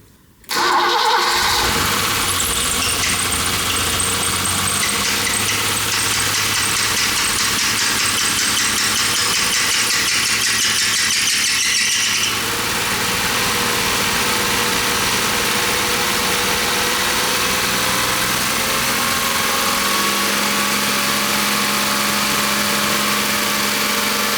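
BMW E30 engine, under repair with M40 and M20 issues noted, cranking and catching, then idling loudly and steadily up close, with the pitch settling lower about halfway through.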